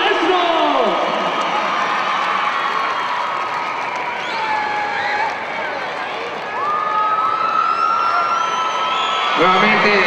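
A big fight crowd roars, whoops and applauds for Mexican fighter Idulio Islas in the final round against Mohammad Bagheri, with piercing whistles rising over a sustained arena din that dips briefly midway, then swells again.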